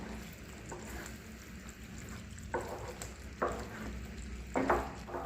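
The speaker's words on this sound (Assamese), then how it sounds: "এতিয়া মছলাখিনিৰ লগত পনীৰখিনিও ভালদৰে মিলাই ল'ম।" Paneer being stirred into sizzling masala in a pan, quiet frying under a few distinct scraping strokes of a spoon, close and soft with no talk.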